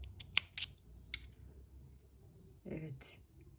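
Scissors snip bead thread for a Miyuki herringbone bracelet with a few quiet, sharp cuts close by, followed by faint rustling and a soft voice.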